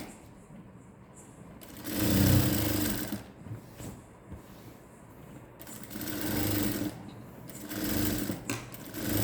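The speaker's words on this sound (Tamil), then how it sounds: "நம்ம இதை தைச்சி வச்சுக்கிட்டு அதுக்கப்புறமா நெக்லைனை ஜாயின் பண்ணிவிட்டு" A sewing machine stitches a blouse neckline in several close bursts of rapid mechanical whirring, broken by short pauses and small handling clicks.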